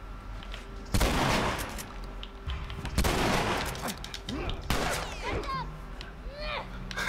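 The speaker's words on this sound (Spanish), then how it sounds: "Le metí dos tiros, ¿no se murió con la escopeta?" Shotgun blasts from The Last of Us video game boom out three times, loud and close at roughly even intervals, with game ambience and a player talking between shots.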